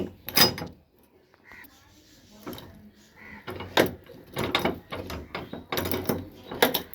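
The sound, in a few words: metal gate being opened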